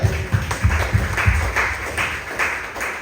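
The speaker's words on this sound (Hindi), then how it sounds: "ताली बजाओ प्रभु के लिए" A church congregation claps for the Lord, a burst of several quick sharp claps followed by looser scattered applause, loud and close, with a faint voice underneath.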